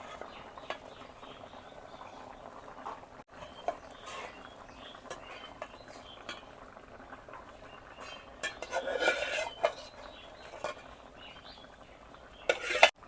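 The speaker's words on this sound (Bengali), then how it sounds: "এখন ভাজা রাখা করলাগুলো দিয়ে দিব।" Fried bitter gourd goes into a simmering vegetable curry with potato and is stirred through, with faint bubbling, light clinks and scrapes of a spoon on the pot, and a louder burst of stirring toward the end.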